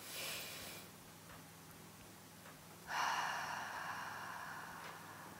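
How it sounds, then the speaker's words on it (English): Someone breathes deeply, drawing a slow breath in through the nose, then letting out a long, audible exhale through the mouth, close up in a quiet room. "breathe in deeply through the nose, fill up that belly, then exhale through the mouth"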